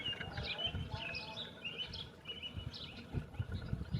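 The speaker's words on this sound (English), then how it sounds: "Birds are sure chirping." Birds chirp and tweet in the open during a solar eclipse, a scatter of faint, high calls from several birds over quiet outdoor background.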